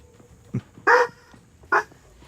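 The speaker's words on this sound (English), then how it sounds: "Oh, the dog's mad." A dog barking nearby, a soft low woof followed by two loud sharp barks spaced under a second apart, against a quiet room background with no talking.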